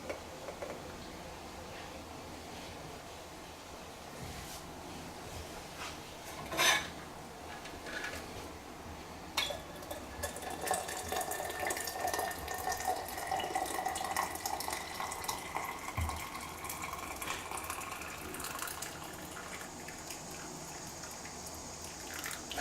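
Running tap water splashes into a sink while a French press used for egg coffee is washed, a steady hiss and trickle with clinks and knocks of glass and metal, rising and shifting as the stream hits the vessel.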